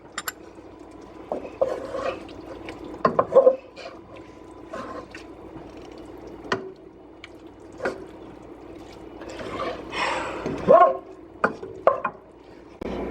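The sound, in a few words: stirring Korean beef rice bowl mixture with ground pepper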